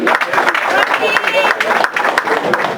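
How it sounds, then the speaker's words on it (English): Applause rings out for a boxer at a post-fight press conference, steady clapping from the room mixed with overlapping voices talking nearby. "a big round of applause for Rahilio Medina"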